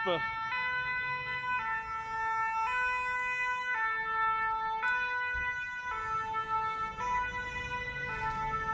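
A fire engine's two-tone siren alternates steadily and loudly as it passes on a road, with traffic rumbling underneath.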